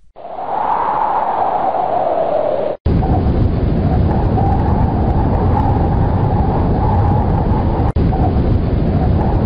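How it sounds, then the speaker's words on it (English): A loud, steady wind sound effect plays on its own as backing for a poem recitation, a continuous broad whooshing roar with a brief cut near the three-second mark and a sharp tick near the end. "here comes the wind"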